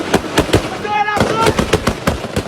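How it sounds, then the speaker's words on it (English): Gunfire rings out in a street battle outside a large hospital in Haiti, a rapid series of sharp, loud close shots in quick bursts, with a voice in the background. "Gun battles rage on the street outside one of Haiti's biggest hospitals"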